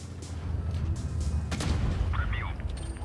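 A tank gun booms in World of Tanks Blitz, with a sharp blast near the middle over a steady low engine rumble and scattered distant battle noise.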